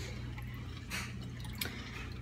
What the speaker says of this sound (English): I'm just gonna stir this around until the salt dissolves a little bit.